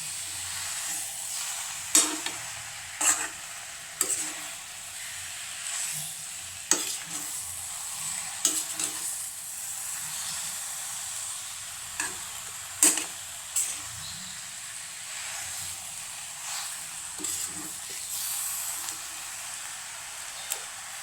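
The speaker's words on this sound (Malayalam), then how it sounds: "നല്ല അടി ചേർത്ത് ഇളക്കിയെടുക്കണം." Beef curry is stirred in a pan with a spoon scraping the bottom, repeated scrapes and clanks sounding in irregular strokes over a constant background sizzle, close and moderately loud, without speech.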